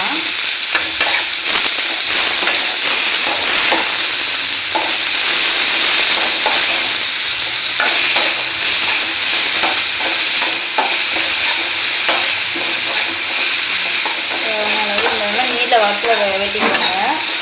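Sliced onions with salt sautéing in a pan, for a meal maker soya chunk gravy, with a loud steady sizzle and frequent scraping stirs of a spoon throughout.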